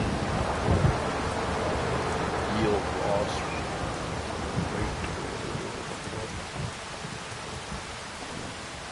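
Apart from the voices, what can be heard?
rain and thunder in Farming Simulator video game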